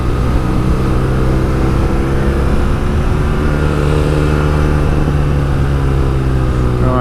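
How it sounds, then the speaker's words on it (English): A motorcycle engine drones steadily and loudly while being ridden on Spanish roads, a continuous close hum with harmonic rumble and no talk, holding an even level throughout. "what an amazing piece of machinery this beautiful motorcycle is"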